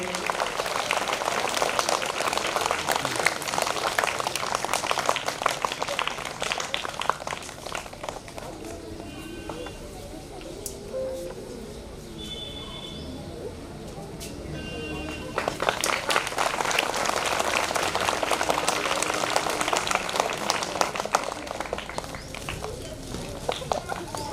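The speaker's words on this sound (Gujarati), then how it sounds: "આપણે જોરદાર તાળીઓથી વધાવીએ" An audience claps loudly at a primary school award ceremony on Republic Day, two long bursts of dense applause separated by a quieter lull with talk and murmuring.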